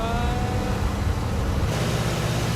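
A Vought F4U Corsair's radial engine runs at 2300 RPM in flight. It makes a loud, continuous, even drone that fills the whole clip with no breaks.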